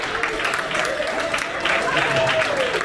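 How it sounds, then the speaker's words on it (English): A room full of people applauds at the Brighton Iceberger inductee ceremony, a steady wash of clapping close by for the whole stretch, with voices carrying over it. "So we're going to have a round of applause"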